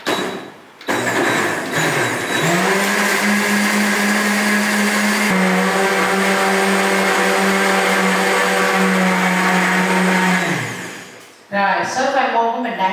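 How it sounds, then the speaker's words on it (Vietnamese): A kitchen blender grinds taro with liquid into a thick, condensed-milk-like sauce, its motor running at a loud, steady whir for about ten seconds before spinning down, with brief handling noises at the start and end. "Bây giờ mình đậy nắp của mình xay. Xay cho đến khi nào khoai môn nhuyễn luôn nha mấy chị nha."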